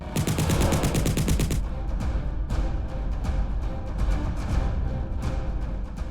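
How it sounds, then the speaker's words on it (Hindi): Loud, rapid bursts of automatic gunfire from a ceasefire violation at night in Pargwal and Karachak villages, Akhnoor, then a stretch of scattered, irregular shots and cracks echoing at moderate distance. "अखनूर के परगवाल और कराचक गांव में गूंजी गोलियां।"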